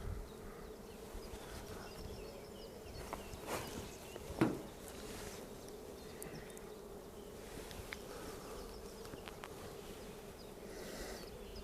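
Honeybees buzzing around beehives on a spring hive visit, a steady, close insect hum with individual bees droning past, plus a faint knock partway through.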